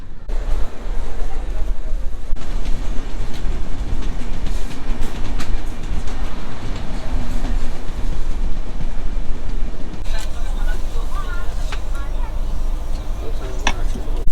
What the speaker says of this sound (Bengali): বর্ধমান স্টেশন থেকে ট্রেন ছেড়ে দিয়েছে।